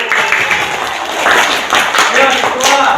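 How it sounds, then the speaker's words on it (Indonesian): Classroom of children clapping for the winning group, a steady, loud burst of applause close by, with voices mixed in throughout. "Nanti tepuk tangan semua ya."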